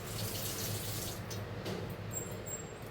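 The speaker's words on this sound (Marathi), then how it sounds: "थोडंसं पाणी टाकू." Water runs steadily into a pan of clam curry, a soft continuous pouring splash at close range.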